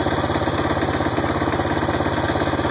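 An off-road Snapper riding mower engine runs steadily at a fast, even idle, close and loud, with a continuous rhythmic chugging throb and no voices.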